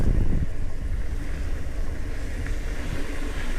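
Strong wind blowing outdoors in Chino Hills State Park: loud, continuous buffeting rush battering the microphone with low rumbling gusts, steady throughout and without voices.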